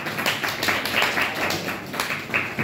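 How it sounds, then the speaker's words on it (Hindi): An audience at a polity lecture claps in a loose, scattered burst of hand claps lasting a couple of seconds, moderately loud, with no voices over it. "ताली बजा बाबा साहेब, ताली"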